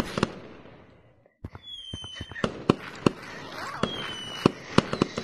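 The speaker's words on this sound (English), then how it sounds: "I want to see the fireworks." Fireworks in the video game Gorilla Tag pop and crackle in a rapid series of sharp bursts, some with whistling trails, moderately loud against a hissy background.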